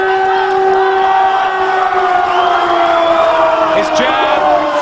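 A boxing arena crowd cheers and whoops for boxer Nigel Wright, a loud, sustained roar of fans with a rising yell near the end.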